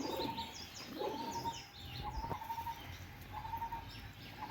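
Pigeons coo softly near a cage for sick birds, low rolling calls repeating at a moderate distance with a few higher chirps scattered through.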